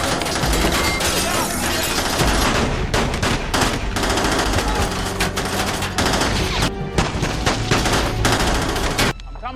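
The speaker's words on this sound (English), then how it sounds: "Carol was nearby, firing at anyone who came close." Sustained automatic gunfire from a film action scene, a dense continuous barrage of rapid shots with loud bursts throughout, briefly thinning near the end, with faint voices mixed under the din.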